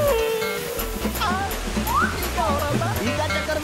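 Water gushes steadily out of a lorry left unattended, a continuous rushing splash that fills the scene while people talk and shout over it.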